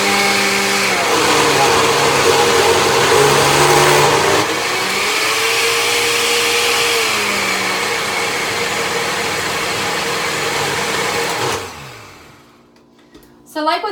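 A blender whirs loudly as it purees celery, its motor pitch dipping and rising as chunks catch, then winding down and stopping near the end.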